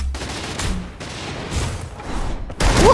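Rapid bursts of gunfire crackle in the Free Fire mobile battle game, several volleys of shots in quick succession, loud and close with short gaps between them.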